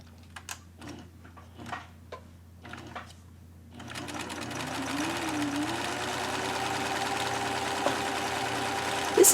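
A sewing machine runs a test seam of normal-length stitches on skirt fabric, starting with a few short separate bursts, then settling into a steady, continuous whirring hum that holds at an even level until the end.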